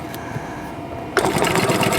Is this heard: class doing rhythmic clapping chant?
no